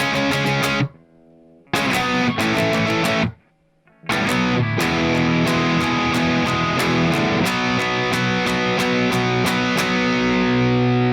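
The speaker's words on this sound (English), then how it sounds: "The rhythm guitar sounds like this." Distorted electric guitar power chords from a song ring out loud and heavy, broken by two brief silences, then continue as a steady run of repeated chord hits.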